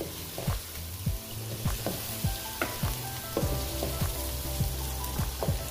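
Apple gourd and meat curry frying in a pan as salt is stirred in, a continuous loud sizzle with repeated scraping strokes of a spoon, close and without talk.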